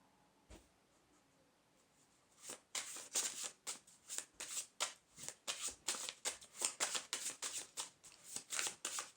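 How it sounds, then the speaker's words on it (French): Tarot cards are shuffled in a quiet room, a single soft tap first, then a fast, steady run of crisp riffling slaps close to the listener, with no voices. "Je vais tirer une autre carte."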